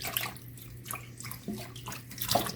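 Water runs softly over herbs being rinsed for a tincture, a faint continuous trickle and splash with a few brief drips, close by and without speech.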